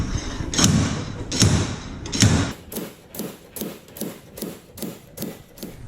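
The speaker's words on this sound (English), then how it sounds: "Okay, so this is a slide hammer." A few heavy thuds followed by a quick run of lighter, regular clacks as a slide hammer is worked against an Argo ATV axle shaft to pull it out, close and fairly loud.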